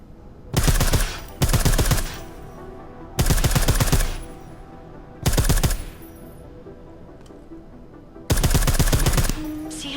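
Silenced automatic gunfire in the video game Deus Ex: Mankind Divided, five rapid suppressed bursts of about half a second to a second each, separated by short pauses, with a faint background hum between them.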